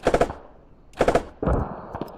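Two short bursts of rapid rifle fire in the Squad video game, each a tight cluster of four or five close shots, followed by a heavier crack with lingering rumble and faint distant pops.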